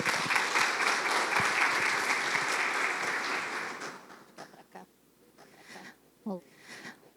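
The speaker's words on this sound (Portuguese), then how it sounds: "Uma salva de palmas." An audience at a municipal management panel applauds a speaker's introduction. The dense clapping lasts about four seconds, then dies away into a few scattered claps and quiet room noise.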